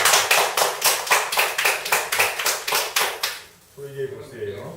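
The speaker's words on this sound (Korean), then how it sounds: "박수 주세요." Rhythmic clapping from a lecture audience, sharp and evenly spaced in unison about three times a second, stopping abruptly before a voice begins speaking.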